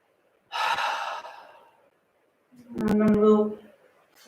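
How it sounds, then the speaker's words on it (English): Two audible breaths during a yin yoga session, first a long airy exhale through the mouth fading out, then after a pause a second breathy, slightly voiced sigh-like exhale, close and clear. "the final breath, exhale through your mouth"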